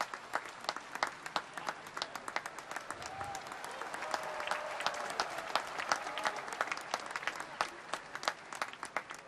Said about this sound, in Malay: marilah kita memberi tepukan gemuruh kepada saudari Aniza Soh.